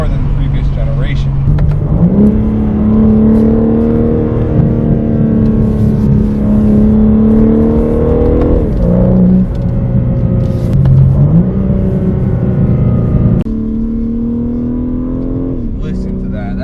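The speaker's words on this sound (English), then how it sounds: "You can hear those turbos a lot more than the previous generation." A 2022 BMW M3 Competition G80 with a turbocharged engine accelerating hard, loud engine drone climbing in pitch through several gear changes with turbo whir, heard from inside the car with someone talking over it.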